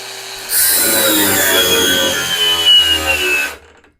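Grosser GAG 120N cordless brushless angle grinder running at its second speed setting, a loud steady whine with a faint high tone that starts abruptly, holds for about three seconds and then stops, with no talk.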